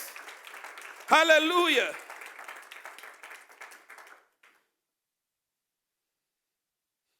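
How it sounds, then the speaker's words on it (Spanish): Congregation applause at a Sunday church service: dense clapping starts at once, swells under a loud shouted voice, then thins and stops after about four seconds, leaving silence. "Denle un aplauso al Señor fuerte, pues."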